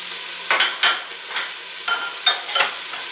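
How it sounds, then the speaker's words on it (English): Chopped red pepper stirred in a pot for turkey curry rice soup: a faint steady sizzle under about six distinct scraping strokes of a utensil against the pot, close and quiet, no talking. "Let me give this a quick stir."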